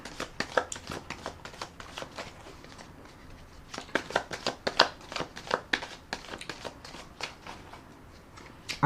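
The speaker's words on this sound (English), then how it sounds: "I'm going to put another shuffle and rifle on the cards" Tarot cards being shuffled and riffled by hand in a quiet room, soft papery flicks and rapid fluttering bursts coming in uneven clusters, close and fairly faint.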